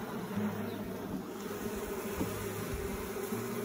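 A honeybee swarm fanning at a hive entrance, a steady close droning buzz of many wings that holds throughout, with no talk.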